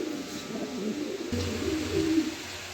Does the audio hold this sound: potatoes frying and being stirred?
no